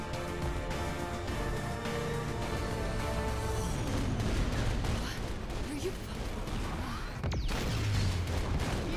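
Dense, continuous game audio from Saints Row 4, with explosions and gunfire-like bursts running loud and steady throughout, layered with music and effects and no clear breaks.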